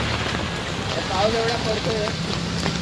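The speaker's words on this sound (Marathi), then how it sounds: "आता बघा परत निघाला पाऊस वाढलाय" Steady Mumbai rain during Ganpati visarjan pattering on a surface with a continuous hiss, faint voices and other noise underneath.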